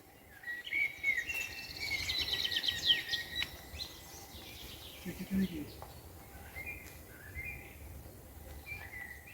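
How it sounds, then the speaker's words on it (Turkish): Birds chirp and sing steadily in a pine forest, with high, bright calls over a constant low rustle and insect-like buzz. "Kuşların sesini duyuyorsunuzdur"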